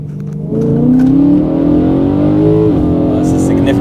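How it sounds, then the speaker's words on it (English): BMW E9x M3 fitted with a Milltek V2 valved exhaust with the valves open, a loud, close engine rising in a smooth rev with a rich tonal exhaust note, dipping briefly before climbing again. "let's see what it sounds like with the valves open"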